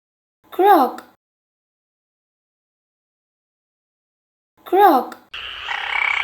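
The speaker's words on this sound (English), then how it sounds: "Frog," Frog croaking in two short, close, identical bursts separated by silence, followed by the onset of a voice.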